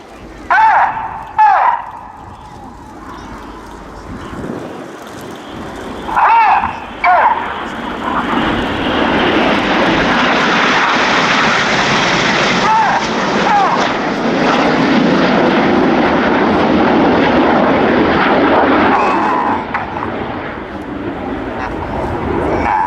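Red Arrows display team jets fly rolling manoeuvres at RIAT 2016, starting with brief loud bursts of jet noise, then a sustained, loud, swelling jet roar that holds for most of the clip before easing slightly.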